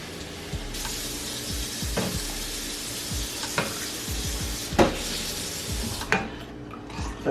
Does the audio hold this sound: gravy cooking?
yes